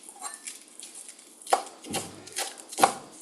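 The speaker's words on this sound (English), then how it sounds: "Now I'm going to chop the spinach." A kitchen knife chops spinach on a cutting board for upma, producing a few sharp, separate thwacks at irregular intervals, close by and alone.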